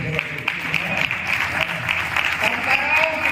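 Audience applause at a comic poetry show, a continuous dense patter of many hands clapping at an even level throughout.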